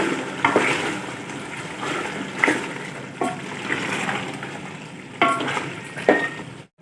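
Mutton being stirred with black pepper in a pan as the water cooks off, giving a steady sizzle with repeated scraping and clinks of a spoon against the pan.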